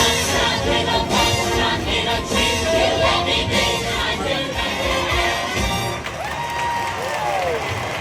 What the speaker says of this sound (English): I like that there's an applause track.